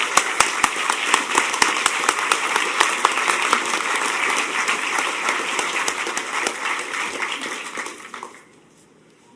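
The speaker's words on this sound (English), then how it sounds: "So I think if anybody deserves a round of applause," Dense audience applause at a hacker conference closing ceremony, loud and sustained with sharp claps throughout, then fading out abruptly near the end.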